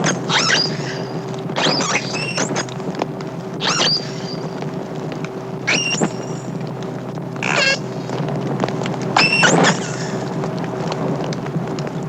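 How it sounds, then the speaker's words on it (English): A lone female dolphin, separated from her herd, gives repeated high whistling and chirping calls in short bursts spaced a second or two apart over steady underwater background noise. "Our unhappy dolphin provides us with a great variety of recordings of her voice."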